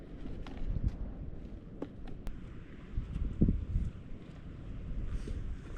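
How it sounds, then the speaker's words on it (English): A gust of wind down Holyhead Breakwater rumbles against the microphone in surges, with faint clicks and light scuffing sounds scattered through. "a massive gust of wind comes down the breakwater"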